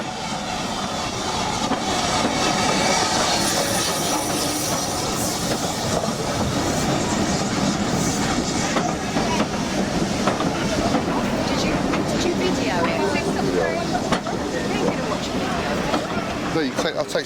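A heavy steam-era U-class locomotive, 31806, hauling a heritage train on the Isle of Purbeck, rumbles steadily and loudly throughout, with a broad mechanical drone and faint voices mixed in nearby.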